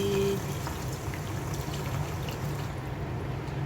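Water pours steadily into a cooking pot for Filipino bulalo, a beef shank soup, making a continuous close splashing rush that stays even and moderately loud throughout.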